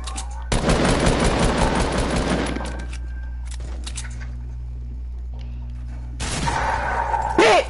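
Rapid video game gunfire, with a loud sustained burst of automatic shots at the start, scattered quieter shots and effects in the middle, and another loud burst near the end.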